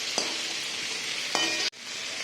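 Tomato and capsicum fry in a pan for pasta, a dense continuous sizzle with two brief stirring scrapes and a short sudden drop near the end, with nobody speaking.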